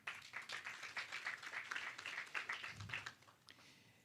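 An audience at a food safety panel on data and innovation claps in a brief round of applause, moderately loud, with individual claps audible before it tapers off near the end.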